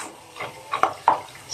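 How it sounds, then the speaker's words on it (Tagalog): Dishes being washed at a kitchen sink produce a few light clinks and scrapes with soft splashing water, close and intermittent, with no talking. "so naghuhugas din ako ng pinggan."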